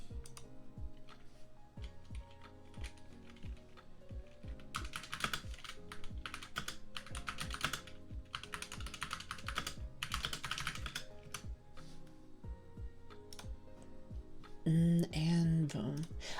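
Mechanical keyboard keys clack in quick, uneven bursts of typing throughout, close and crisp, with a brief higher tone near the end.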